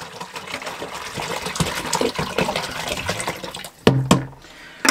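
Hot water pours from a half-gallon container into a camper's black tank, making a continuous gushing splash that fills the space, then thins out with a few sharp knocks and clunks near the end.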